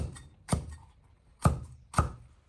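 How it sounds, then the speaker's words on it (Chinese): Knife chopping seeded green chili peppers into angled roll-cut chunks on a cutting board: four crisp, close thunks with short uneven pauses between them, alone and fairly quiet. "尖椒或者青椒洗净去籽，切成滚刀块。"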